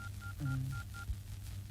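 Keypad tones of a phone number being dialed, a quick run of short, evenly spaced beeps over a low hum, with a brief lower tone partway through.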